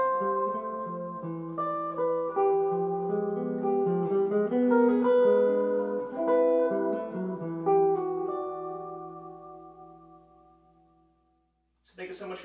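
Solo piano improvises a 2-5-1 chord progression with a moving bass line and a melody on top, sustained chords ringing for several seconds before fading to near silence, then a brief new attack at the end.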